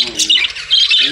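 Pet lovebirds let out shrill, close squawks in a few quick bursts over about a second.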